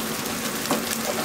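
Tomato and pepper paste sautéing in a pan gives a steady, close sizzle with a soft stir near the middle, no voices.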